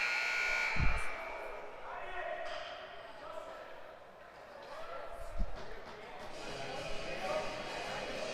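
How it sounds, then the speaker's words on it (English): A buzzer sounds at a high school ice hockey game, a sustained tone early on amid arena crowd noise, with a commentator talking and a couple of low thuds. "We had a buzzer."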